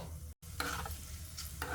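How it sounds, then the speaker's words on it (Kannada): Mustard seeds splutter in hot oil as tempering for mango saaru, with a quiet sizzle broken by short crackling bursts and a brief stirring scrape. "ಚೆನ್ನಾಗಿ ಸಿಡಿಬೇಕು, ಸಾಸಿವೆ ಚೆನ್ನಾಗಿ ಸಿಡಿದ್ರೇ ಒಗ್ಗರಣೆ ತುಂಬಾ ಪರಿಮಳ ಬರೋದು"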